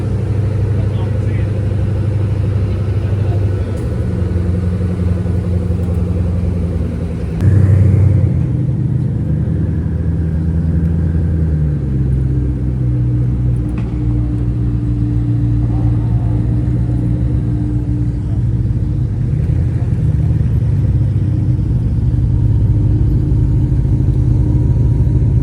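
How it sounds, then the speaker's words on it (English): Supercars roll in at the Quail during Car Week, arriving one after another with a steady low engine rumble close by. A brief louder surge comes partway through, and people talk over the engines throughout. "Still have cars rolling in even after the Koenigsegg left."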